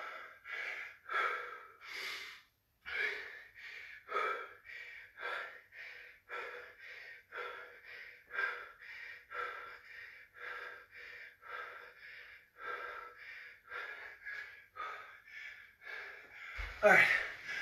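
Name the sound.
heavy breathing during HIIT workout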